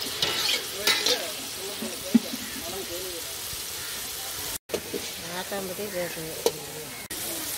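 Hand-ground ginger garlic paste fries in a pan for a Hogenakkal fish curry, a continuous sizzle with bursts of stirring that runs under ongoing talk and drops out briefly once.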